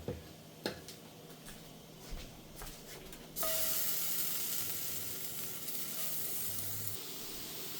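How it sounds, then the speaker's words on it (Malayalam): Sliced banana fries in ghee, with a few soft clatters before a strong, steady sizzle bursts up and carries on loudly at close range, with no talking. "ബാക്കിയും കൂടെ ഞാൻ അതുപോലെ തന്നെ സ്വല്പം നെയ്യ് ഒഴിച്ചിട്ട് ഒരിച്ചെടുക്കാൻ പോവാണ്"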